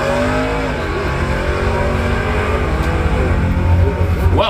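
Two Camaro drag cars, the 19 and the 015, race side by side at a Labor Day bracket event at Bradenton Motorsports Park, engines roaring loud and steady as they pull away, with a rising whine near the end.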